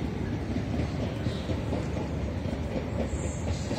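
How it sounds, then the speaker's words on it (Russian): A train on a children's railway in Kyiv rolls past in the distance toward a station, producing a steady low rumble with soft rhythmic clatter throughout and no voices. "Ну, это поезд едет вдалеке."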